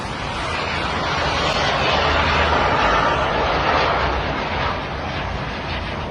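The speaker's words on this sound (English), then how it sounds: "Fighter jet." A fighter jet flying low over Sheikh Zayed Road in Dubai, a loud continuous roar that swells to a peak mid-pass and then slowly eases off, drowning out everything else.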